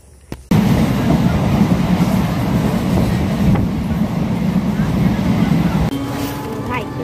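A passenger train rolls along with a loud, steady rumble and rattle heard from inside a carriage, continuous throughout after a brief quieter start, with faint voices in the background.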